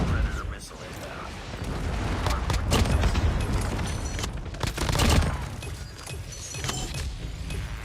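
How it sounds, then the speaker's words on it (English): Predator missile strike and ongoing gunfire in Call of Duty Mobile during a LAN tournament match, dense continuous shots and booming impacts throughout, with a swell of heavy blasts midway under game noise. "Friendly Predator missile inbound."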